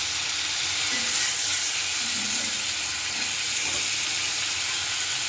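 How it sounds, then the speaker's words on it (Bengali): Eggs mixed with turmeric and salt fry in hot oil, making a continuous, fairly loud sizzling hiss with a few soft stirring touches and no talking. "ওটা গরম হতে হতে ডিমটা ভেজে নেই।"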